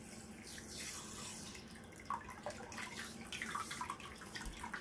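Water runs steadily from a faucet with an LED temperature indicator, a constant close hiss with splashing and bubbling that gets a little busier toward the end.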